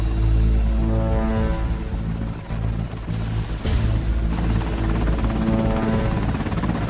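Loud, steady military helicopter rotor drone with a deep thrumming hum and a constant whine, close by and continuous throughout.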